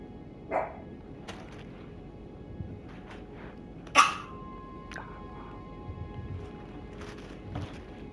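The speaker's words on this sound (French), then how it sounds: "le chien qui se met à aboyer pour rien" A dog gives a few short, sharp barks indoors, spaced several seconds apart, with one louder bark near the middle over a quiet background hum.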